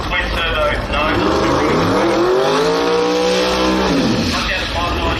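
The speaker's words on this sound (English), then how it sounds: "Paul Mary rolling up to the line in his twin turbo Nova." Twin turbo Nova pro mod drag car at the start line of a drag strip, a loud, close engine whose pitch sweeps down and then climbs again as it revs, with crowd and track noise around it.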